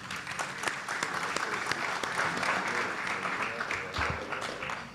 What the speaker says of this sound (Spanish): pido pues que lo recibamos con un fuerte aplauso